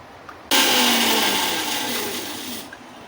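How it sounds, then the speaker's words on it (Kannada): A kitchen mixer grinder whirs loudly for about two seconds, grinding cardamom and whole spices for a biryani masala. It starts abruptly and stops abruptly, with a steady, dense roar that eases slightly toward the end. "ಸೊ ಇದನ್ನು ಇವಾಗ ಗ್ರೈಂಡ್ ಮಾಡ್ಕೊಳ್ಳೋಣ"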